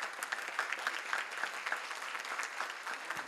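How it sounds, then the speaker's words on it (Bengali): Audience clapping at a foundation day celebration after a musical performance with harmonium, tabla and dhol, a brisk, even burst of applause from a moderate crowd, close and lively throughout. "এদের সকলের জন্য একটু হাততালি।"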